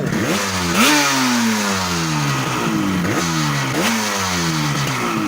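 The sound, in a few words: restored motorcycle engine starting and revving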